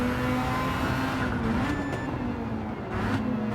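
The engine of the Amemiya RX7 race car in Gran Turismo 7 revs hard after a downshift to second, a loud, continuous, rasping high-rev drone with small pitch dips, and no talking.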